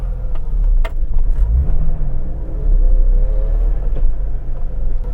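A vehicle engine drones in low range gear, a loud deep rumble with slight rises in revs and a few light rattles, close and steady with no one talking.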